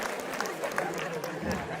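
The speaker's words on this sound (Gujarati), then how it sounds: "જોરદાર તાળીઓ સાથે રાકેશ રોશનને વધાવીએ આપણે" An audience breaks into applause for Rakesh Roshan at a devotional stage programme, a brief, dense patter of many hands clapping that runs under a voice.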